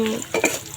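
A brief scrape of a spoon stirring potatoes frying in a salted, turmeric-seasoned pan at a picnic, one or two quick strokes over a soft, continuous sizzle.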